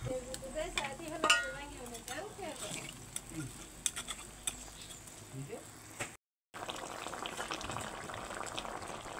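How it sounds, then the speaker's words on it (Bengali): Fried koi fish simmer in a bubbling pumpkin curry broth, a continuous boil with occasional stirring clatter, a voice talking over it, and a brief total dropout near the end. "এবার ভেজে রাখা কই মাছগুলো দিয়ে দেবে।"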